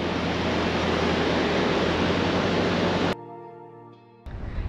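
Ocean waves breaking on South Beach, a loud steady wash of surf and wind that cuts off abruptly, leaving a quieter lull before the roar returns.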